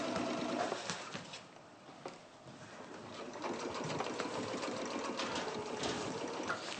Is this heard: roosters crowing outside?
no